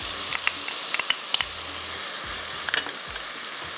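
Ginger, garlic and spices frying in a pan with red chilli powder and chicken powder, a close steady sizzle with scattered crackles and a few soft scraping stirs.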